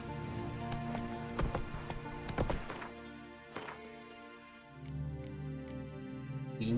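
Roach, the horse in The Witcher 3, trots with clear, close hoof clip-clops in a rhythmic series, then fewer sharper hoof strikes as the pace eases, over a quiet tonal game background.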